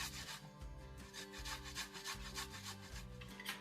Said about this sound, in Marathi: तो बटाटा पण आपण किसून घेतो।